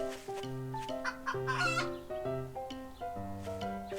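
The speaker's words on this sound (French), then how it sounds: "Il y avait une poule." Video game chicken clucking in a rapid, rhythmic series of loud, close clucks and squawks, with no talk over it.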